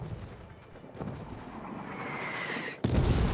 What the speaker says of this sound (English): That artillery shell seemed to land right on top of us.